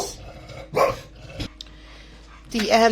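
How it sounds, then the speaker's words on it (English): A dog barks in short bursts at a moderate distance while people dig nearby. A voice talks close by between and over the barks. "They're going to drive that dog demented with all their digging."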